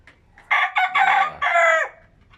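A rooster crows close by in a loud, drawn-out call, rising and breaking into several segments, with faint farmyard clucking around it.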